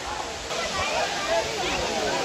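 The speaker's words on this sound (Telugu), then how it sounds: "చూడన్నా ఏమొస్తున్నాయి నీళ్ళు" Talakona waterfall near Tirupati pours in a steady, broad rush of falling water, close and continuous, with a voice briefly talking over it.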